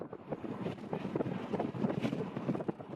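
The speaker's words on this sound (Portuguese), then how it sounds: "Naquele dia, a brisa do oceano estava tão forte que o carro foi soprado para fora da estrada." Strong ocean wind in Iceland's Westfjords buffets the microphone with a dense, continuous roar and gusting rumble, steady and loud throughout with no talking.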